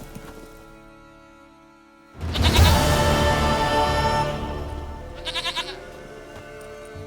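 A goat in The Witcher 3 game gives a loud, wavering bleat after a quiet start. A shorter, fainter bleat comes a few seconds later, with no talking over either one.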